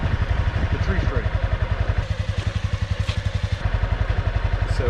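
A Honda CBR300 motorcycle engine runs close by with a fast, steady pulsing putter at low revs, while a voice talks over it.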